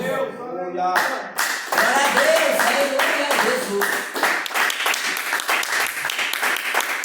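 A church congregation claps hands in praise, rhythmic hand claps starting after a short spoken line and continuing loudly, with voices singing or calling out over them.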